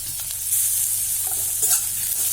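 Grated ginger and garlic fry in a pan with a steady, close hiss and crackle, with a few soft stirring scrapes over the brief stretch.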